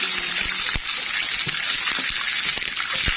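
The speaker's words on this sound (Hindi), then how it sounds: "थोड़ा सा पानी और ऐड कर देते हैं।" Water poured into a pot of moong dal khichdi cooking on the stove, a steady rushing gush that runs without a break, with a few soft knocks and clinks underneath.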